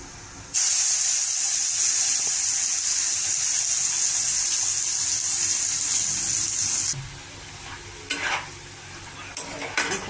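Ridge gourd paste hits a hot pan already holding black cumin seeds and sizzles loudly and steadily for several seconds, then drops to quieter frying with a few sharp crackles near the end.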